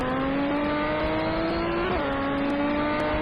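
A race car at a 10-hour endurance race at Fuji drones past on the pit straight, a loud steady engine whine with a slight pitch drop midway as it passes, over continuous track noise.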